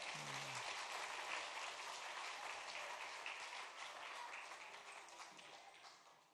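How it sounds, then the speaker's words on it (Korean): Faint, distant applause from a church congregation at a family worship service, a steady wash of clapping that slowly fades toward the end. "한 번 더 큰 박수 하겠습니다."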